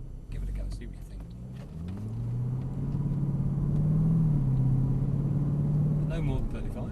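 A Mercedes-AMG engine at a driving experience track pulls up through a rising drone and holds a strong, steady note before easing off near the end. It is heard from inside the cabin and stays loud and close.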